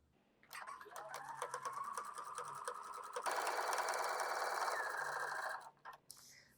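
A sewing machine stitches a buttonhole in a rapid, steady mechanical whir, close and clear, changing pace partway through before winding down and stopping near the end; no speech.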